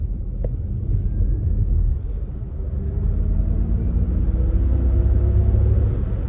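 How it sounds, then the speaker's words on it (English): A 2022 Ford Mustang Mach-E Premium in Unbridled mode plays its artificial propulsion sound while accelerating on a highway. Rising synthetic tones climb steadily over a loud, constant cabin road rumble and wind noise. "I put it in unbridled mode, and I put the propulsion sound on. So hopefully you guys can hear this thing when I step on it"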